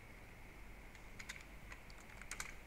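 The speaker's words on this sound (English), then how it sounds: "you're going to type in the labels." Faint, quick keypresses on a computer keyboard as labels are typed in, a few scattered soft clicks over a steady background hum.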